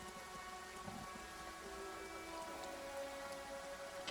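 Steady, faint rain falls in a fantasy role-playing game scene, a soft continuous patter with no voices over it.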